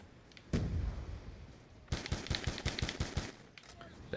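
Gunfire from an M14 rifle in Black Ops 2 Zombies on the Mob of the Dead map: one heavy shot with a booming tail, then a rapid string of about ten sharp, evenly spaced cracks, loud and close.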